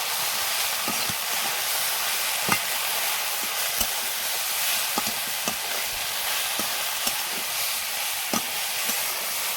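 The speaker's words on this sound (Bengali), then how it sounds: "লবণ আর দিচ্ছি গোলমরিচের গুঁড়ো। এবার ভালো করে মিশিয়ে নেব।" Curry being stirred in a pan after salt and black pepper go in, a dish of taro stolons with shrimp cooking, giving a steady close sizzle with scattered scraping clicks of the spoon.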